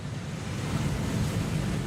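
A waterfall in the Hogwarts Legacy video game roars as a constant, dense wash of rushing water, fairly soft and unbroken, with no speech.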